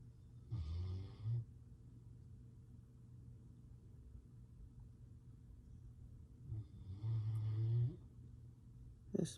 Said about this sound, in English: having a nap and snoring